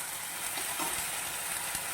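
Pureed tomato fries in a pan while spices go in for a vegetarian jackfruit kofta curry, a close, steady hiss of sizzling oil running evenly throughout with no talk.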